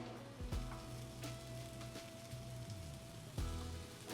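Fish fillet frying in a pan, a steady close sizzle and crackle with occasional sharper pops and spatters, no voices over it.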